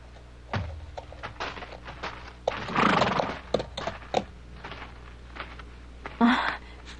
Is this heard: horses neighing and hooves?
yes